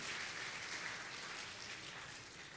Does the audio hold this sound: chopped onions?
no